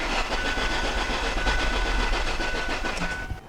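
Ford Focus engine cranking over without starting, a steady, continuous mechanical churn that runs nearly unbroken at moderate loudness before cutting off at the end.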